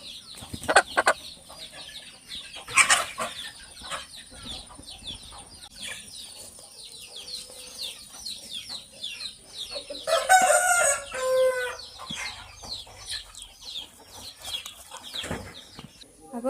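Aseel chickens on a Kerala farm cluck repeatedly, with a rooster crowing loudly partway through, nearby wing flaps and scattered clucks around it.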